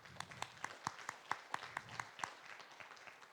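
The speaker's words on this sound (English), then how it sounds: "Give the city of Taipei a round of applause" Audience at a digital summit opening ceremony applauding, faint and distant, with evenly spaced sharp claps in a steady rhythm over a quiet hall.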